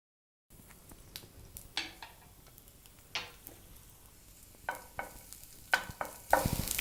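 Julienned garlic and ginger frying in oil in a pan, Chinese-style, with a soft steady sizzle and scattered utensil clicks and scrapes that grow louder toward the end.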